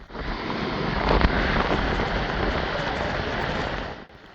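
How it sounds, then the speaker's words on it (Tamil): Heavy rain pours down in Jaffna, a dense, loud, continuous hiss of drops hitting surfaces, steady throughout before easing sharply at the very end. "அந்தளவுக்கு வந்து மழை பெய்ய தொடங்கி இருக்குது"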